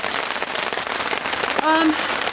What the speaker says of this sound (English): now it's pissing down with rain